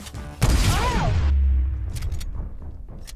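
A sniper rifle fires in a video game: a sharp loud crack followed by a long booming, rumbling tail and a whooshing sweep, then quieter scattered distant shots.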